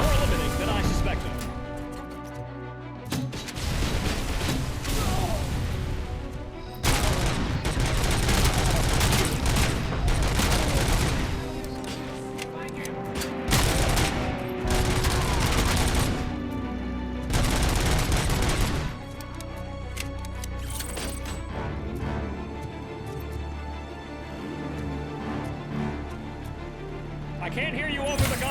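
Gunfire in the video game Robocop: Rogue City, with heavy bursts of automatic fire, crashes and booms coming in dense, loud waves, broken by brief lulls, while someone talks over the action.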